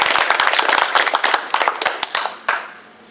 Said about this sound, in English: Please join me in a round of applause for the company staff